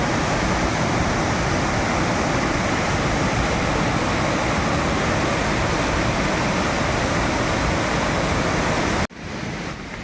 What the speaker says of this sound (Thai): นี่ก็คือน้ำตกแสงจันทร์หรือน้ำตกรูนะครับ